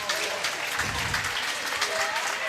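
Crowd at a high school boys swim and dive meet cheering and applauding for a diver after his final dive, a steady loud wash of claps and shouts in a reverberant pool hall.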